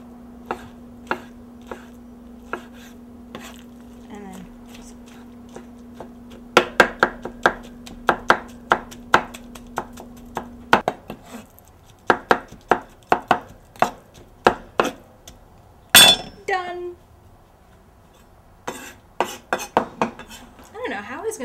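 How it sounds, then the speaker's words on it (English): Eggplant being chopped finely with a big, heavy knife on a board for baba ganoush, sharp close knocks coming in fast rhythmic bursts with short pauses between them, plus a steady hum through the first half. "So I just use a knife and I like chop it up really,"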